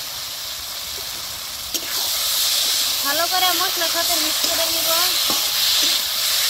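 Shingi fish is added to a hot pan of spices and lightly fried potatoes, setting off a loud, steady, close sizzling hiss that continues throughout, while someone talks over it.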